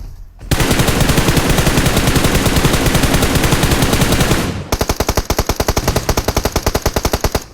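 Rapid automatic gunfire from a video game firefight, loud and continuous for several seconds, then a second burst of sharper, evenly spaced shots.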